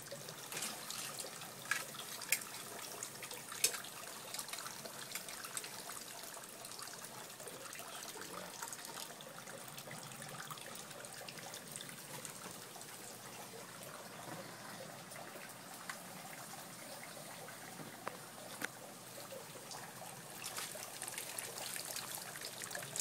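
Water streams steadily over a lobster being rinsed outdoors at a barbecue, a continuous trickling and splashing at moderate level with no talk.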